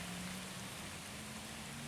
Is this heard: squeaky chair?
no